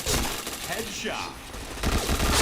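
Gunfire in the online shooter game PointBlank, rapid bursts of shots in quick succession, loud and close, with a voice talking over them.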